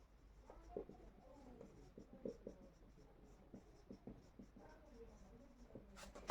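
Chalk or marker writing a sentence on a board during an English grammar lesson, faint scratchy strokes in short irregular bursts, quiet and close with low room noise.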